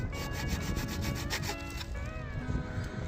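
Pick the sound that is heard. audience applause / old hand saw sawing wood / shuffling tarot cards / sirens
old hand saw sawing wood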